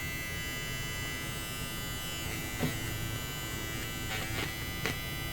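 An electric seam ripper runs with a steady, even buzz that holds for the whole stretch, and a few faint clicks and scrapes rise briefly above it.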